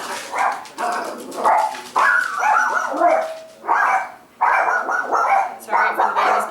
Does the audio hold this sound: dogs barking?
yes